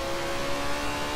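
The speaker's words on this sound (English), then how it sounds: "Really crazy fast car, this McLaren." A McLaren supercar in Forza Horizon 2 races the Bordure Circuit, its engine holding a loud, steady high-rev drone throughout with no break and no voices.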